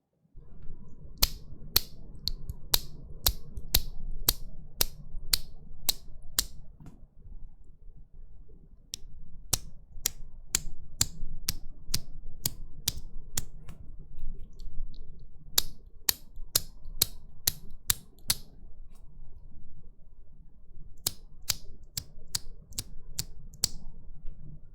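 Bursts of sharp, high-pitched clacks from JWK mechanical keyboard switches being typed, in quick rhythmic clusters separated by short pauses, close and crisp with no talking.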